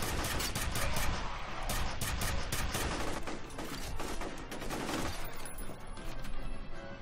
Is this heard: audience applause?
no